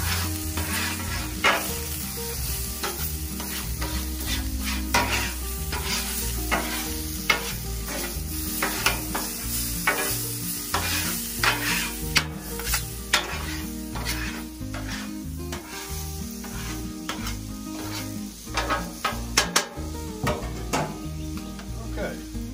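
Stirring and scraping a keto egg roll in a bowl frying on a Blackstone griddle, a steady sizzle under repeated metal spatula scrapes and clacks, with a person talking now and then.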